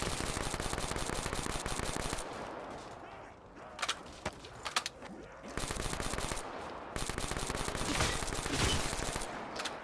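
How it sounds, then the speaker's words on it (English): Rapid automatic gunfire from Black Ops 3 Zombies, loud and sustained in dense bursts, briefly pausing midway for a few scattered shots before the heavy firing resumes, with voices talking over it. "This gun just shreds people."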